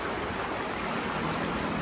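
River water rushing steadily under Linawan Bridge, a continuous broad roar of flow close by, even and unbroken for the whole stretch with no voices.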